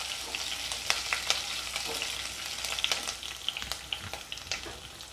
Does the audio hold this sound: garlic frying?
yes